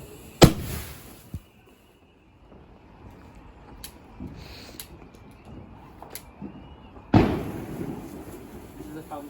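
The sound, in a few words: bonfire night fireworks going off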